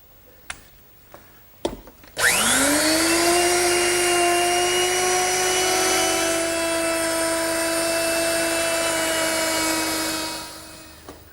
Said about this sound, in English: to round that over, I'll simply use my router, which is set up with a 1/2 inch rounding over bit